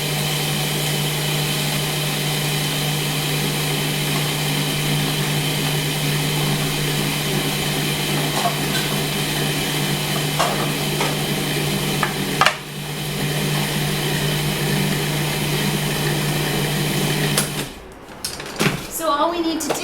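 A blender spins a raw coconut macaroon mixture flavored with vanilla and rose, a loud, steady motor drone lasting about seventeen seconds before it cuts off and settles into quieter clatter.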